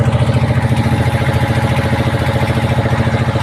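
A boat's engine chugs in a fast, even pulse as the boat pulls away from Bindur ghat on a fishing trip. It sounds loud and close, with no voices.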